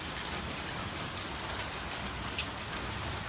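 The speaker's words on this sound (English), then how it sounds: "That's hail for you." Hail falls across an outdoor surface in a steady dense patter, with a couple of sharper individual impacts standing out. There is no talking.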